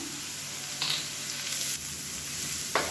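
Onions, green chili and curry leaves sautéing in an oil-filled pan, a steady close sizzle with occasional brief stirring scrapes and clinks, no voices.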